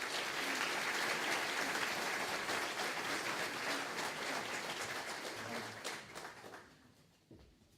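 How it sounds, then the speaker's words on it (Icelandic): A graduation-ceremony crowd claps warmly as a graduate is called to the stage, the applause loud and dense at first, then tapering off and dying out near the end. "Gefum honum gott klapp."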